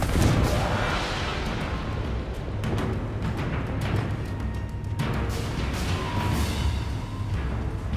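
A Confringo blasting spell fires repeatedly in Hogwarts Legacy, a dense run of loud, booming explosive bursts layered over continuous rumbling battle noise, with no talking.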